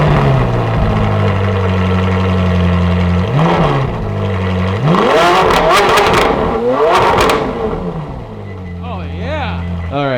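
A Ferrari 458 with stock exhaust idles with a steady low hum, then revs sharply several times in loud rising bursts before settling back to idle.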